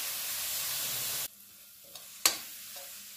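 Tomatoes and onions salted for saag sizzle loudly in a pan, then the hiss drops to a quieter fry, with a sharp utensil clack partway through.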